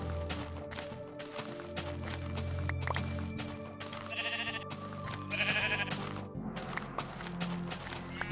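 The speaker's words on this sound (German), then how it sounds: "Jetzt schnappe ich mir mal schnell die Wolle, und zwar mit der Schere." Blocky sheep in Minecraft bleat while being sheared with shears for wool, several short bleats popping up over a continuous layer of game background music, with no talking.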